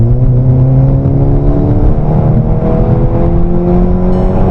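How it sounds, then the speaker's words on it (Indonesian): A Volkswagen Scirocco 1.4-litre turbo hatchback in automatic mode, normal quiet exhaust setting, revs hard and pulls away, a loud, steady engine drone rising smoothly in pitch as it accelerates close to the microphone. "Dan guys, kalau kita coba untuk mode matic ya, kita geber."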